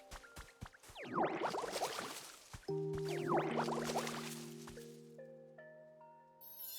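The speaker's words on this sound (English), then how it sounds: "Then water the grass." Grass being watered in the video game Pokemon Pokopia: bursts of soft splashy, squishy liquid sound in two waves, followed by steady sustained game tones and a faint rising chime at the end.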